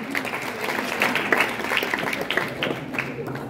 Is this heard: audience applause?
yes